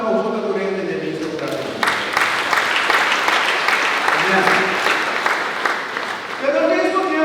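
A church congregation applauds during a Spanish-language sermon, steady clapping filling the room while a voice speaks over it throughout.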